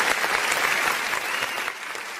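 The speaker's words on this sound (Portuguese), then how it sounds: "dá uma salva de palmas, porque hoje é aniversário do João Gabriel" Studio audience applause for a birthday on a talk show, a brief burst of dense, lively clapping close by that eases slightly toward the end.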